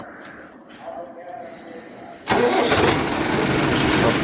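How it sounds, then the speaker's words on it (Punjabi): A few short electronic beeps, then a tractor's heavy engine cranks and catches, settling into a loud, rough, steady rumble. "tractor start"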